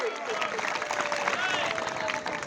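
A crowd claps at an outdoor wrestling match, a dense wash of many hands applauding beneath an amplified announcer's voice and whistles.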